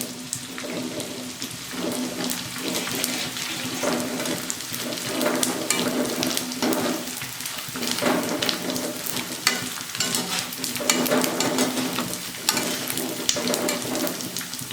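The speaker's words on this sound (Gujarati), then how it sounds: "ગુંદરને હવે આપણે તળી લેવાનો છે" Edible gum (gond) fries in hot ghee with a loud, crackling sizzle, overlaid by repeated scraping and stirring strokes against the pan that continue throughout and carry no talk.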